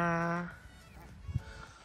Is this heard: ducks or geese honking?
yes